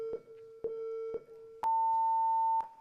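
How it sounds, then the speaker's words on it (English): Start beeps for an RC drift car run at a Drift Essex championship round: three short evenly spaced mid-pitch beeps, then one longer, higher tone, loud and clear with no talk. "The beep is done."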